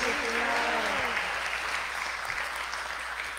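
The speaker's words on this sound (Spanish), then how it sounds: "un aplauso de felicitaciones a todos ustedes" Congregation clapping during a Sunday Catholic Mass, moderately loud and fading gradually, with brief voices heard near the start.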